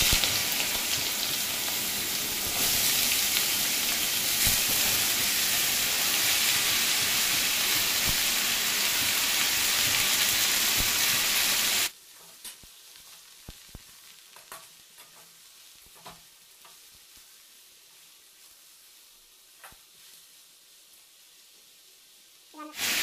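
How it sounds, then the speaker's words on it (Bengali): Chunks of bottle gourd tipped into hot oil with a little cumin in a pan hiss into a loud, steady sizzle for about twelve seconds, then drop to quiet, scattered crackles and occasional stirring clinks. "এবার আমি লাউগুলো দিয়ে দেবো।"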